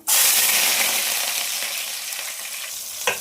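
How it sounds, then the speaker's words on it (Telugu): Silver fish drop into very hot oil and erupt into a loud, bright sizzle that holds steady and is cut by a brief clink near the end. "ఆయిల్ అయితే బాగా వేడైంది. ఫస్ట్ అయితే వెండి చేపలు అనేది ఫ్రై చేసేసుకున్నాం."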